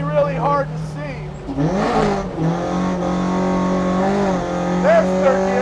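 A Toyota AE86 engine revs hard while the car drifts on a wet track in rain, with the pitch climbing and dropping through gear changes and clutch kicks. Someone talks over the engine noise the whole time.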